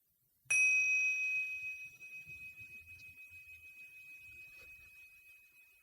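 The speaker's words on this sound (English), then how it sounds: "I'll sound the bell and I'll give you a few gentle cues." A meditation bell is struck once, close and clear, and its bright tone rings on and slowly fades over several seconds against quiet low background rumbles.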